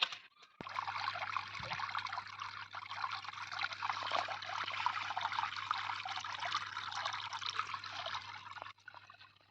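A thin stream of water runs steadily from a tap, a quiet continuous trickle over a low hum.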